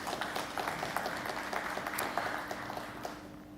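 Audience applause at a Caribbean media history legacy lecture in Barbados, a steady wash of many hands clapping together, dense and sustained before tapering slightly at the end.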